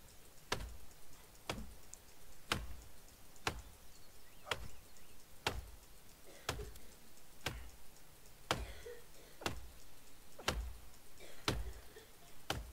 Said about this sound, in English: Let's just bang a couple more trees